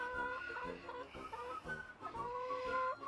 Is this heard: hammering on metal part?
no